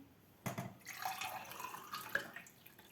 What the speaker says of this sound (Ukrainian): Нагріту воду наливаю в склянку.